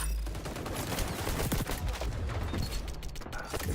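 Rapid XDefiant gunfire, a dense clatter of many shots from several guns at once, loud and continuous through the whole stretch with no talk over it.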